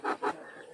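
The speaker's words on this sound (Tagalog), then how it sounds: "Aba, itong mga pusa na to." Two quick, close cat yowls or meows in a Filipino home setting, each brief and rising, followed by a faint lingering tail with no talk.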